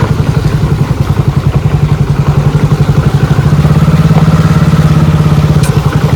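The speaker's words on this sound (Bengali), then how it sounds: "ওই যে সমুদ্রে প্রবেশ করলাম বাইক নিয়ে।" A motorcycle engine putters loudly and close by in a fast, even rhythm as the bike rides into the sea, running steadily throughout without any talk.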